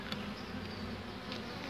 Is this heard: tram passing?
no